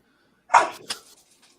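A pet dog barks indoors: one loud, close bark followed by a shorter second yelp, then quiet.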